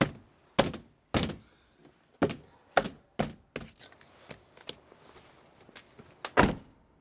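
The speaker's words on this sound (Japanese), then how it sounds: "ドアを閉める音が" A series of heavy, solid thunks of a Suzuki Jimny JA22 door being shut several times after sound deadening, at irregular intervals, each thud sharp and close.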